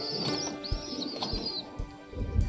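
Racing pigeons outdoors make soft low coos and a few scattered chirps, with brief wing flutters and light handling noise nearby.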